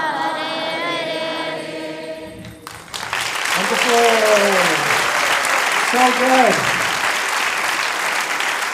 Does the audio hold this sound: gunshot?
no